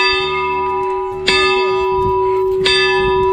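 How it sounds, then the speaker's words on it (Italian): Church bells ring in Caltanissetta, Sicily, with rich sustained tones and two fresh strikes about a second and a half apart, loud and close. "dopo una bella suonata di campane"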